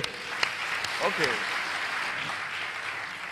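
An audience claps in a sustained, even wash of applause, moderately loud and steady, with a few voices briefly speaking over it.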